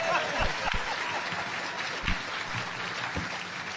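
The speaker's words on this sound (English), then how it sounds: "How about a big round of applause for a good friend of ours, Mr. Greg Ryder?" A crowd claps steadily throughout, a dense wash of applause with a few sharper claps standing out.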